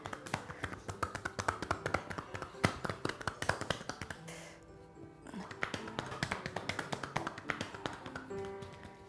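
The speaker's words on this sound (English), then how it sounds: "there's percussion, which everybody knows. It's like a karate chop, which you can do with an open hand." Rapid percussive tapping of Swedish massage, open-hand karate-chop strokes striking the body in quick rhythmic bursts, close and fairly loud, pausing briefly partway through before resuming.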